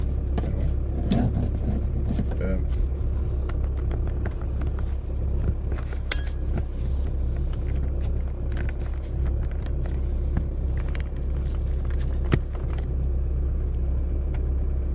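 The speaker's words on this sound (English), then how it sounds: "So I just go for a quick drive so that you can also just see how it drives." Kia Sorento SUV on the road, an engine with a slight smoking problem, heard from inside as a steady low rumble and road noise with faint ticks and knocks, no talking.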